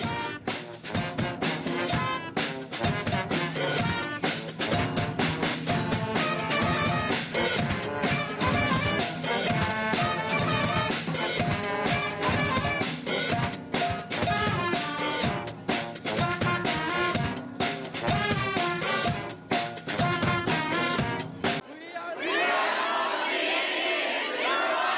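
A high school marching band plays loud, dense brass and percussion music that runs continuously for about twenty seconds. It then cuts abruptly to a different, quieter sound.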